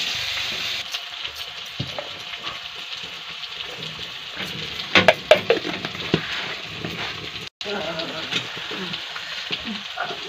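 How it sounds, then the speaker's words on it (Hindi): Dal (lentils) simmering in a pot on a home kitchen stove, a steady close bubbling and sizzling hiss that runs throughout with a few louder clatters midway and faint background voices. "इधर देखिए दाल पक रहा है दीदी का"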